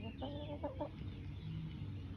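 A chicken clucks a few short, quick notes near the middle, faint over a low background rumble in the Lake Garda countryside.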